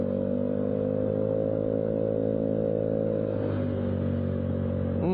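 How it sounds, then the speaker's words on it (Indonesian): A Honda Beat Street scooter engine held at low revs, a steady, droning hum that runs continuously with a slight dip near the end, close and fairly loud with no talk. "kalau digas kayak gini kita tahan gitu, supaya dia tetap jalan tapi di RPM rendah kayak gini"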